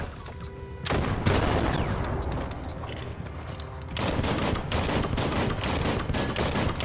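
Gunfire in the video game Biomutant: dense, rapid bursts of shots, loud and close, with a short quieter gap before a second sustained volley.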